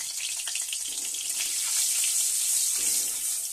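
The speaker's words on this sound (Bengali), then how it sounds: "এতে জল আছে বলে ফটফট করে আওয়াজ হচ্ছে" A watery spice paste fries in hot oil for a spicy small-fish curry, giving a steady, close hissing sizzle with faint crackles throughout and no voices.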